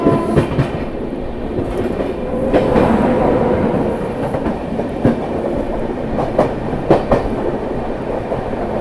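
The Prayag Express passes close by at speed, a loud continuous rumble with steady clickety-clack of wheels over rail joints and no voices.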